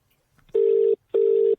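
Two ringing bursts of a telephone ring tone heard through a phone on speakerphone, each lasting about 0.4 seconds with a short gap between them, loud and clear with no talking.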